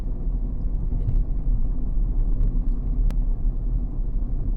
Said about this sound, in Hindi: और एक बार में ही गाड़ी आराम से मुड़ गई।